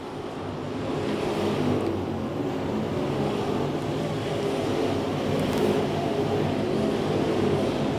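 Dirt late model race cars roar around Cochran Motor Speedway during a feature race, a dense, steady engine drone heard from a distance with no voices over it.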